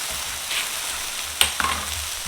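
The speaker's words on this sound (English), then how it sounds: "Spread it out and allow it to fry." Okra and potato pieces fry in a pan over medium-low heat, a steady near sizzle with one sharp clink of a utensil partway through.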